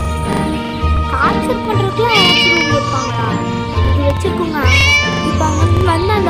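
A cat meows repeatedly and plaintively in the Scary Teacher video game, with loud, wavering cries over busy game music and sound effects.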